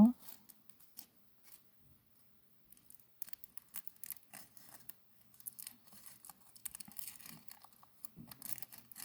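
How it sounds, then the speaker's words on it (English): Aluminum foil being peeled from the thin paper backing of a chewing gum wrapper, quiet close crinkles and small tearing rustles in scattered bursts, louder toward the end. "try to disconnect the aluminum from the little thin paper that it comes on"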